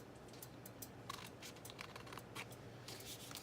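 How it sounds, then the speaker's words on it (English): Scissors snip through paper at a guitar repair bench, giving a run of short, crisp cuts at a steady close-up level over a low background hum. "we're just going to cut that off with the scissors"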